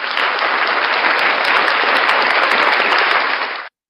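Dense, steady applause from a large crowd fills the whole stretch at full loudness, then cuts off abruptly, with no voices over it.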